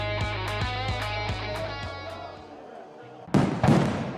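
Fireworks bursting in an advert for a fireworks store: a quick run of sharp pops and bangs over a music bed, then a louder, denser crackling burst at the end.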